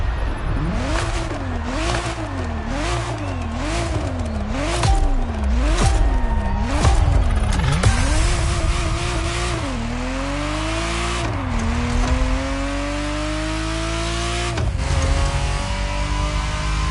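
Ferrari Testarossa engine in the video game The Crew Motorfest, revving loudly in repeated rising and falling bursts, then holding long climbing pulls through the gears with a sustained, close, dominant engine note and no talk.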